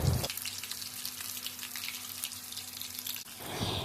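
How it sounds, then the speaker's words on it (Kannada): Semolina-coated ladyfish (kane) fries in hot oil Mangalore style, a loud, steady broadband hiss that starts and stops abruptly. "ಈಗ ಎಣ್ಣೆ ಚೆನ್ನಾಗಿ ಕಾದಿದೆ. ಈಗ ಮೀನನ್ನು ಹಾಕ್ಕೊಳ್ತಾ ಇದ್ದೇನೆ."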